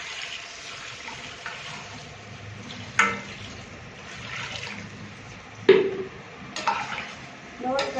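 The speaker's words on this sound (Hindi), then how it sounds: "इसमें 2 लीटर पानी डालेंगे।" Two litres of water are poured into fried chicken biryani masala in a cooking pot, with a few distinct splashing pours over a low kitchen background.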